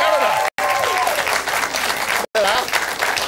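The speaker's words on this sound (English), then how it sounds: "They're clapping to blend in with the rest of the audience" Sustained applause from a live television studio audience, dense and loud with brief cuts, under a presenter's voice.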